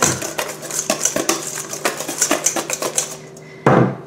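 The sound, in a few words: mixing cake batter in a bowl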